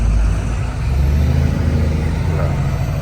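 A heavily loaded truck climbs uphill in C gear, its engine a steady, loud low drone with continuous road rumble throughout.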